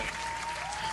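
An audience in a morning talk-show studio claps for a guest, with dense, steady applause filling the whole short moment at even loudness.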